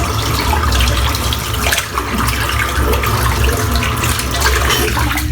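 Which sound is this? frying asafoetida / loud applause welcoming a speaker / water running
water running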